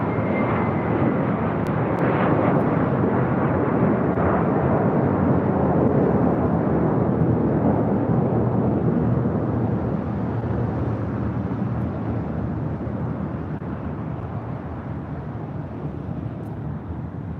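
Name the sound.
American Airlines jet flight 2543 departing to Dallas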